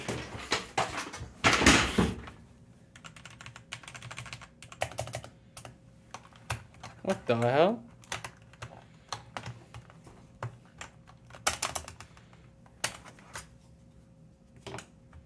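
Typing on a computer keyboard is heard as irregular bursts of clacky keystrokes, close and fairly crisp, with a few louder thumps and a short exclaimed voice near the start.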